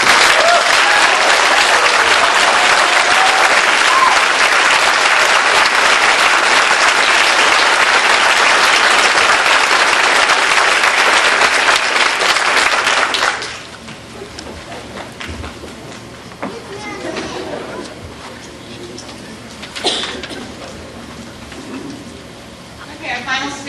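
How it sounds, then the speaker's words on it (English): Loud sustained applause from a graduation ceremony audience honoring a respiratory therapy class, a dense wash of clapping that cuts off abruptly partway through, followed by a quieter room with faint scattered sounds. "join me with a round of applause for the respiratory therapy class"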